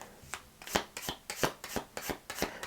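Tarot cards shuffled in quick rhythmic bursts, about eight close crisp riffles and slaps in a row, near and fairly quiet with no talk.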